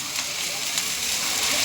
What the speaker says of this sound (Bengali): সবে মশলা কষানো হচ্ছে